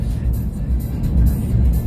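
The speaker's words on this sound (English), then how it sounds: "did the car get louder right now?" A car driving over a bridge, with steady low road rumble and tire noise from inside the cabin, swelling slightly louder, with people talking over it.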